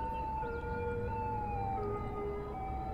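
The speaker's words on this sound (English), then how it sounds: "That ambulance is flying." Ambulance siren in the Cities: Skylines city-building game, a steady wailing tone with gliding pitch that holds loud and continuous for the whole stretch over a dense background hum.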